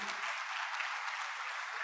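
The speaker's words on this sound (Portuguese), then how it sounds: "Você pode dar uma salva de palmas a Jesus?" A church congregation claps together in a dense, steady burst of applause that fills the room at moderate level, with no speech on top.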